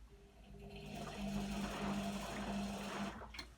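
Beko WM5100W washing machine agitating its drum during a 40-degree cotton wash, a steady close churning hum with tonal motor whine pulsing in short bursts, continuous throughout with no talk.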